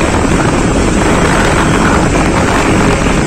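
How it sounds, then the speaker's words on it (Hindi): A DC fan driven by a rewound 775 motor blows hard, making a steady, loud, close rushing roar like strong wind against the microphone. The roar holds unbroken throughout, and no one speaks. "अभी तो ये पंखा ऐसे नहीं रखने वाला क्योंकि बहुत तेज हवा हो रहा है"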